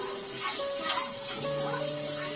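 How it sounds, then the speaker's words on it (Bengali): Potatoes and carrots frying in a pan while being stirred, a close, steady sizzle with scraping stir strokes across the short span. "তো আলুগুলো প্রায় আমার ভাজা হয়েছে, সুন্দর একটু মানে মচমচা টাইপ হয়ে গেছে"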